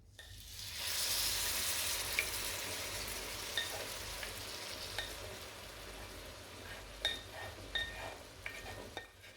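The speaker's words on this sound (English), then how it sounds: "Now we can spoon the warm sauce over the crepes." Warm orange sauce spooned over crêpes Suzette in a pan gives a soft, steady sizzle, with a few light clinks of the spoon toward the end.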